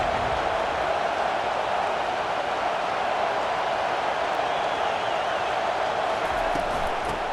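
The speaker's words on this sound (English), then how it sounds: "Listen to this crowd just shaking the girders of this place" Loud, steady roar of a stadium crowd cheering during a football game in the video game College Football 25, a dense wash of noise filling the whole stretch with no breaks.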